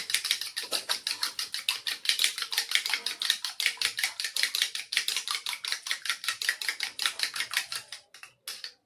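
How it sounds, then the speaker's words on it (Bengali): An egg being beaten by hand in a bowl for rasmalai batter, a fast steady run of sharp clicking whisk strokes, close and loud, slowing and stopping near the end with no talk. "এখানে আমি একটা ডিম ফাটিয়ে নিচ্ছি দিয়ে ভালোভাবে"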